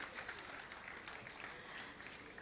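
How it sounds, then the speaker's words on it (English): An audience at a Mangaluru tech industry awards event applauds in a steady, dense wash of clapping, faint and distant, sustained without a break for a couple of seconds. "Can we have one final round of applause for everyone"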